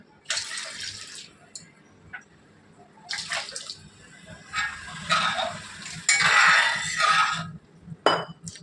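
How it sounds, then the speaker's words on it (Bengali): Water poured into a pan of cooking radish and pea dal, heard as several short splashing bursts with quiet gaps between them and no talk. "একটু জল দিয়ে দিলাম।"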